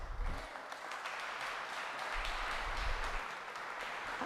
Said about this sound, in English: I'd appreciate it if everyone could keep their applause and snapping and everything